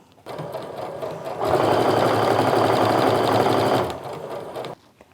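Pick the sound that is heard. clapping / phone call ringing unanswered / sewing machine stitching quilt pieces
sewing machine stitching quilt pieces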